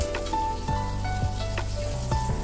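Fish frying in hot oil in a home kitchen, a steady close sizzle with a few soft clinks and scrapes as the pieces are turned over, no voices.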